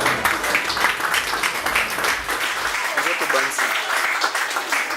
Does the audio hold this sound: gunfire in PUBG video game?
no